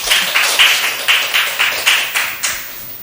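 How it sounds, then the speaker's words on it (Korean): High-school students in a lecture hall clap to welcome a visiting professor, bright claps landing in a steady, evenly spaced rhythm, fairly loud and close, with no talking. "김종천 교수님을 박수로 모시겠습니다."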